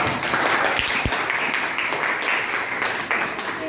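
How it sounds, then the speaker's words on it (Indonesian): Group of people clapping hands together in a classroom lesson, a steady dense patter of claps lasting several seconds at moderate loudness with no voices over it. "tepuk tangan dulu kita"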